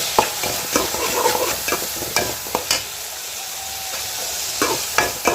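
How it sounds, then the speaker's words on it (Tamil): Tomatoes sautéing in a pan, a steady close sizzle with repeated sharp scrapes and taps of a spatula stirring them, loud and alone with no voices. "இப்போ தக்காளி சேர்த்து நல்லா வதக்கிட்டுக்கணும்"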